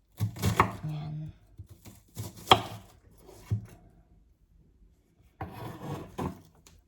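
A knife chops onion on a cutting board, giving several irregular, fairly close thuds and scrapes in bursts separated by short pauses.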